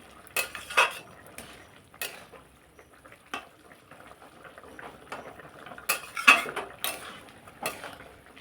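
Lid lifted off a pot of simmering pointed gourd (kakrol) and potatoes, with scattered metal clinks and clatters of pot and utensils in a quiet kitchen, loudest in a cluster of sharp knocks near the end.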